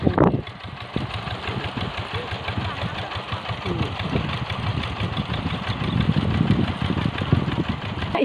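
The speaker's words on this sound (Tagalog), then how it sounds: "Yan po bali, makina na yan, aerator." A pond aerator engine at a tilapia pond runs steadily at idle with a low chugging knock, close by and continuous.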